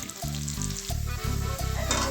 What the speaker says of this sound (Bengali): সেই সময়ের মধ্যে আমরা আলুটা ভেজে নিচ্ছি